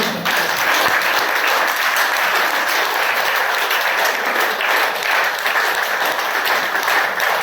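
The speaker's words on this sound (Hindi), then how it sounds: "एक बार जब तक आप लोग तालियां बजा लें," An audience claps steadily throughout, a dense, even wash of applause at close range with no break.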